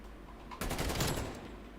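Gunfire in a 2v2 tournament match of an online shooter game: an abrupt, loud burst of rapid shots breaks in and rattles on for about a second before easing off. No talk.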